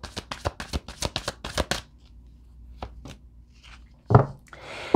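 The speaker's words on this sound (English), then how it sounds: "I just want to get one more card here." Tarot cards from a deck, shuffled and drawn in a rapid run of crisp flicks and snaps, then quieter paper slides and rubs, close and alone, with a louder shuffle toward the end.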